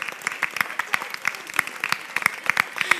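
Theatre audience applauding at an amateur musical production of Aladin, a brief burst of clapping with sharp individual claps standing out over the steady patter.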